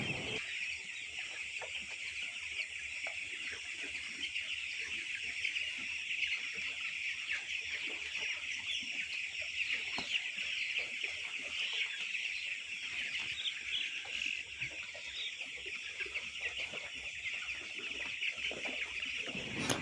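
Broiler chickens in a poultry farm shed cluck and chirp in a continuous, dense chorus. Many birds call at once at a moderate, steady level throughout, and nobody speaks.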